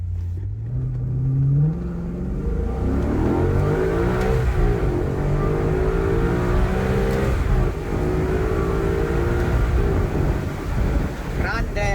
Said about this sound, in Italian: vi faccio vedere l'accelerazione da 0 a 100 in poco più di 5 secondi